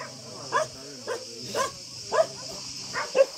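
Several short barks from shy shelter dogs, spaced irregularly, moderately close, over a low steady background hum.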